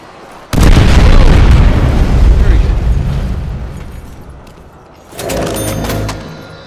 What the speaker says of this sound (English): Holy grenade, go!